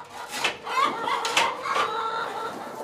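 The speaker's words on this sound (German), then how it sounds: "Knapp 300 Freilandhühner leben in seinem neuen Mobil." Free-range hens in a mobile henhouse on a farm meadow cluck and squawk close by, several overlapping calls in quick bursts.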